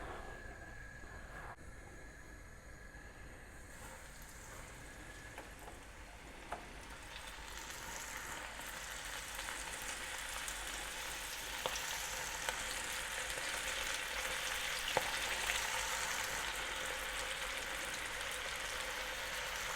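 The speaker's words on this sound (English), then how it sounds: "Then we'll batch it in, fry it in batches." Battered calamari frying in batches of hot oil, a soft, continuous sizzle that grows slightly louder over time, with a few faint clicks and no talk.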